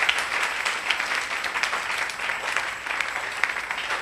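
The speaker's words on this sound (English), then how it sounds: "Give the Lord a better clap." Church congregation clapping steadily together, a dense, continuous patter of many hands filling the room at moderate loudness with no pauses.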